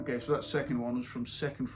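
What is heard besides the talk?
No everyday noises stand out.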